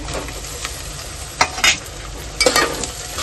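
Tomatoes are stir-fried with onions in a pan for chicken rassa, with steady sizzling and two distinct scraping stirs of a spoon, close and clear with no speech.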